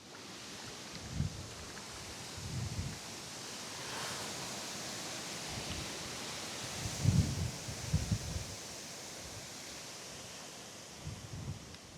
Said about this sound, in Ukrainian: Да, ветер сильнейший.